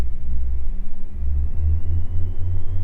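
Twin engines of a Beechcraft G58 Baron power up for takeoff, giving a loud, steady, low droning rumble that pulses slightly as the power rises, heard from inside the cabin.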